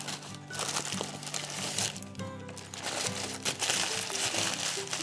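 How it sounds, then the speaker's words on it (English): Baking parchment is scrunched and crinkled by hand before wrapping around a swede, with close, continuous papery crackling that rises and falls for several seconds. "Grab yourself a big piece of baking parchment, scrunch it up."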